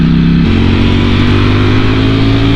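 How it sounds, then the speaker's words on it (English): A Ducati motorcycle engine roars loud and close as it accelerates, its pitch stepping and climbing through the revs with no talk over it. "Ducati coming through."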